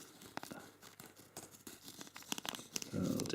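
A swollen FoodSaver FFS002 vacuum-sealed bag being cut open, quiet crinkling and tearing plastic with snips, ending in a louder rustle.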